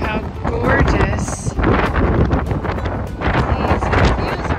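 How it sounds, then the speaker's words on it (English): Strong wind buffets the microphone in loud, continuous gusts on the Monterey Bay shore, with brief voices faintly mixed in. "it's so windy"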